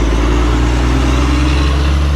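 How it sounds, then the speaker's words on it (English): A loud truck passes close by near a roundabout, its heavy engine drone steady and continuous throughout with no talking. "we'll let this truck come on by. Pretty loud, pretty noisy over here."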